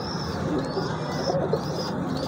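Golden Taddy pigeons cooing: soft, continuous low cooing close by, with faint higher chirps running above it throughout the short stretch.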